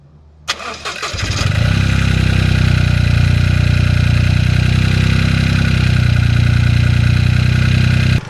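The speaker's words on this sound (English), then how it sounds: "give the engine a start and make sure it all works" A Toyota GR Yaris engine cranks briefly, then fires and settles into a steady, loud, close idle that holds evenly to the end, heard right after a spark plug change.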